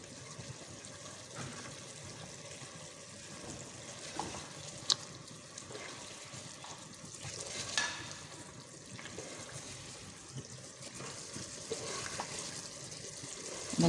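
Ginger and garlic, a spoonful each, frying in about half a cup of cooking oil for a chana dal gosht dish, giving a steady, soft sizzle and crackle with occasional faint clinks, and no talking.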